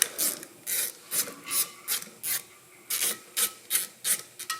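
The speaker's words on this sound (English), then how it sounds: "So we're going to use a 10mm, remove this one bolt." A 10mm wrench ratchets back and forth on a bolt of an NV5600 transmission, about a dozen short rasping clicks in an even rhythm, close and fairly quiet with no talking.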